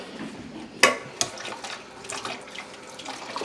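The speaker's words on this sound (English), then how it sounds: "I'm gonna rinse my knife off." A kitchen knife is rinsed under a running tap, giving a soft steady water splash with a couple of sharp metallic clinks against the sink, close by and moderately quiet, with no talking.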